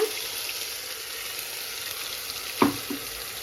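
Ground spice paste dropped into a hot pan on low flame for a cowpea (alasande) curry, giving a steady soft sizzle with a brief louder splash and stir near the end, no talking.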